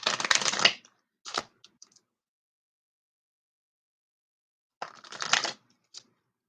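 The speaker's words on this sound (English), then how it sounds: "So we're going to go ahead and get a couple shuffles." Angels of Abundance oracle cards being shuffled, two short bursts of riffling separated by a few seconds of silence, close and fairly quiet.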